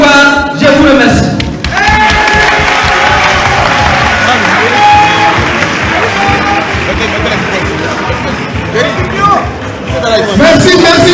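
Sustained applause from a large crowd at a political rally in Côte d'Ivoire, dense clapping mixed with cheers and murmuring, loud and steady for the whole stretch.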